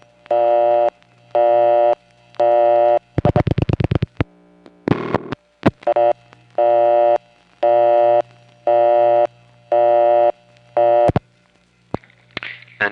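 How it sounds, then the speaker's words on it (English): A busy signal on a New York payphone test line: a loud, steady on-off tone pulsing about once a second, broken midway by a burst of rapid clicks and other tones before the pulsing resumes. "the busy signal means that it saw a coin after there shouldn't be one"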